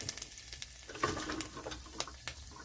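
Dried red chillies sizzle in hot oil in a pan, a steady, faint crackling fry with small pops, heard close and alone.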